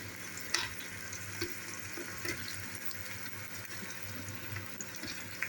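Tomatoes go into softened onions frying in a pan for kadhi, a quiet steady sizzle with small crackles and occasional soft stirring scrapes.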